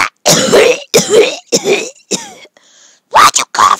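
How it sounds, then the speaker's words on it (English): Several loud, harsh coughs close by, coming in quick bursts, a short quiet gap, then two more coughs. "Why'd you cough at me?"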